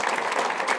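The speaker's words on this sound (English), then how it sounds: "Would you all please clap?" A short, steady burst of audience applause fills the room at a seminar on market timing, dense and even throughout with no voices over it.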